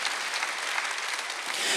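A church congregation claps steadily together during a Sunday worship service, a dense, continuous patter of many hands that holds an even level throughout.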